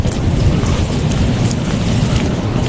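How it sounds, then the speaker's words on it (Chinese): A thunderstorm with rain at a European tourist site gives a loud, continuous low rumble over a dense rain hiss, steady and enveloping without voices. "听说是雷阵雨，但是我不知道这个雨要下到啥时候"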